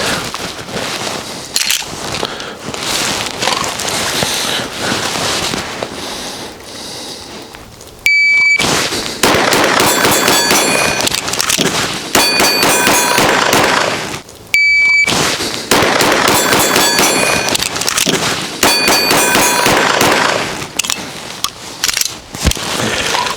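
A rapid string of twelve loud, sharp pistol shots in a reload drill fires in two bursts, separated by a short pause, with electronic timer beeps marking the start of each string.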